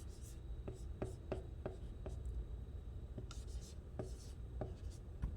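Marker or pen writing a chemical formula by hand on a board or paper, a series of short tapping strokes and scratches at a steady pace, close and fairly faint against a low background hum.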